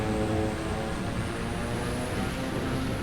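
A propeller airplane engine drones at takeoff in a flight simulator, a loud, constant, close hum with a steady rumbling texture and no break.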